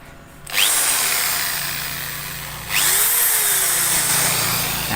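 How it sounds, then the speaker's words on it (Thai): An electric drill drawing about 200 watts, powered through a homemade inverter transformer, whirs up loudly, stops briefly, then spins up again, a steady high motor whine close by. "ก็โหลดตัวแรกที่จะลองให้ดูก็คือสว่านตัวนี้กินประมาณ200วัตต์นะฮะ"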